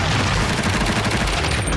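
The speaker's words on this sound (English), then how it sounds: "The miniature ammunition in the Pinfire actually fires, but this gun shoots flares and blanks rather than bullets." A tiny pinfire gun fires a miniature blank cartridge, giving a short, sharp report with brief rumble, loud and alone.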